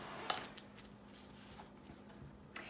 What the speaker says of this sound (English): All we have to do next is stir